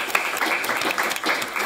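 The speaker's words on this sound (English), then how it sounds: "we're all going to give you a round of applause." Audience applause at a policy panel on modern slavery, a short dense burst of clapping from a seated crowd, steady and moderately loud.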